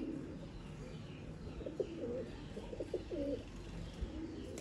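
Sialkoti pigeons coo in low, rounded repeated calls at a kabootar bazi loft, several soft phrases rising over a steady murmur of background noise.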